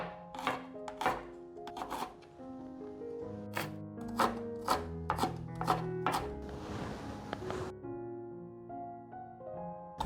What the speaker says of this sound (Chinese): 准备10克的姜，把姜切片。